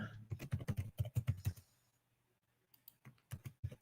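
Quick bursts of keystrokes on a computer keyboard, close and crisp, with a short pause before a few more taps resume; no talking over it.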